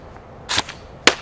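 A Matrix Sportsline M4 airsoft rifle fires at a target 75 feet away, two sharp snapping shots about half a second apart, loud and close, with no talking.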